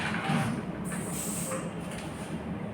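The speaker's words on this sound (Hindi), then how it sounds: "hard spray" Hard hairspray is sprayed onto hair during a hairstyling session, a steady, loud close-up hiss that runs through with slight pulses and no talk.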